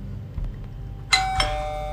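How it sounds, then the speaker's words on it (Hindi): A home doorbell rings twice in a Hindi story scene, two clear bright chimes about a quarter-second apart that ring on and sustain in a quiet room with faint low background hum and no talking. "तभी मेरे घर की घंटी बजी।"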